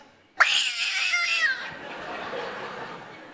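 A person mimics a cat with a sharp, drawn-out meow-like cry that bursts in loudly and trails into a fading rasp, close by in a stage comedy setting.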